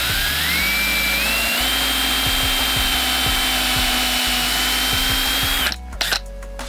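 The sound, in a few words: power drill pre-drilling the center with drill bit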